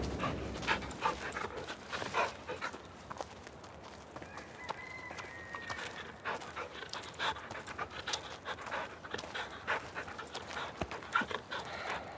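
Dogs pant rapidly and steadily nearby for several seconds, with faint honking birds in the background.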